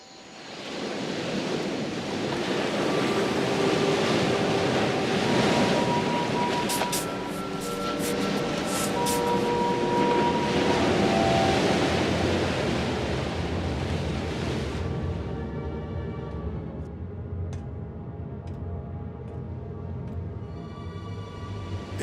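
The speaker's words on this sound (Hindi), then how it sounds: "लहरें काफी तेज हैं" Strong ocean waves crash and roar continuously in a film scene, loud and close, a dense rushing surge that eases toward the end, with no voices over it.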